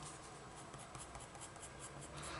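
Coloured pencils scratching on paper during colouring, a faint, continuous dry rasp of steady strokes heard up close and alone, with no talk over it.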